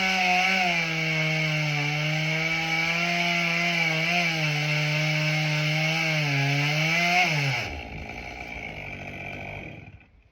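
A chainsaw cuts through a piece of tree while roping it down in sections, running at steady high revs for about seven seconds before dropping off and winding down to a low idle, close and loud with no talking.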